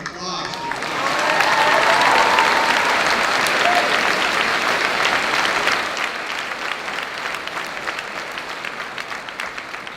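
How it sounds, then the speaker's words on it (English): A crowd at a school moving-up ceremony breaks into sustained applause that swells loudly, then gradually thins into lighter scattered clapping. "So how about applause?"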